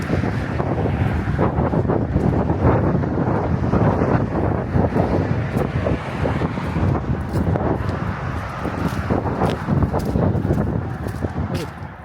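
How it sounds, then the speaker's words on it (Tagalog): Strong outdoor wind in Canada buffets the microphone in a constant heavy rumbling roar, loud and unbroken throughout. "Lakas ng hangin."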